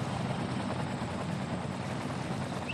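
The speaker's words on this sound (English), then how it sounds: "I can hear the helicopters coming in, so they're finishing up their touch-ups." Helicopters fly in over a city in the Cities: Skylines video game, producing a steady, fairly faint, continuous rotor drone and rumble that holds at an even level throughout.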